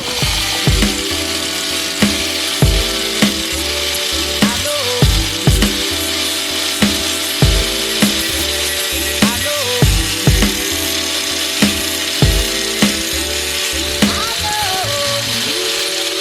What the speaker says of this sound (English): take the angle grinder and trim these up just a little bit